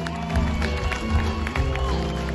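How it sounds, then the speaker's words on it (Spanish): A concert audience at the House of Blues in Anaheim applauds the Mexican musicians, loud crowd clapping and cheering blended with sustained sound from the stage. "que sea un aplauso para estos grandes músicos mexicanos"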